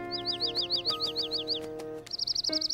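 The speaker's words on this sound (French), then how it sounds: "tu as pris soin de ce petit oiseau pour qu'il puisse guérir" Small cartoon bird chirps in quick repeated downward tweets, a run of about a dozen close, bright calls, then a brief pause and a faster rapid trill of chirps over a soft tonal music bed.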